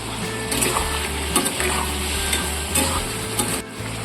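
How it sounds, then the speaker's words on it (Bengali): Fried potato pieces are stirred into a soybean curry frying in a pan along with ginger paste, giving a steady sizzle with scraping stirs throughout. "এবার ভাজা আলু টুকরোগুলো দিয়ে দিচ্ছি"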